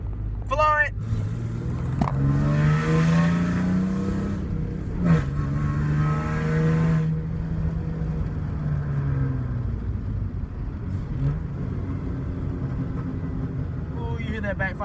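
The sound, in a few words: 2002 Ford Mustang 3.8L V6 accelerating hard, backfiring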